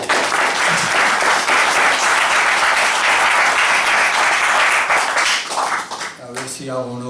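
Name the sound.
audience applause at a lecture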